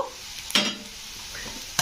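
Onion and garlic fry in a pan with a steady hiss, broken by two sharp scraping stirs of a utensil, one near the start and one at the end.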